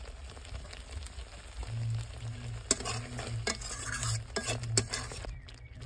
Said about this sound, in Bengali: 5 মিনিটের মতো আমি একটু নাড়াচাড়া করে নেব